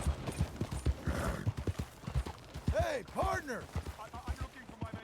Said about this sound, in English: I'm trying to slow my horse down.